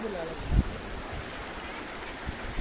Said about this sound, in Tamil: பார்த்திங்கன்னா தண்ணி வந்து ரொம்ப அருமையாக போகுது